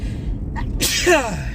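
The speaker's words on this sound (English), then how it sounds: "Excuse me while I sneeze." A single sharp sneeze bursts out close by inside a car driving through California's Central Valley, a quick inhale followed by an explosive, breathy release over steady road hum.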